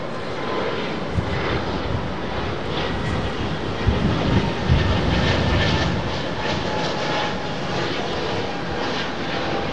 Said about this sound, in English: You see these aircraft.